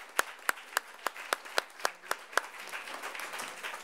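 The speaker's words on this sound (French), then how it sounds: "Applaudissez-les encore une fois pour leur investissement" An audience applauds at the Prix Simone de Beauvoir 2019 award ceremony. Sharp, evenly spaced nearby claps stand out over softer, diffuse applause that carries on after them.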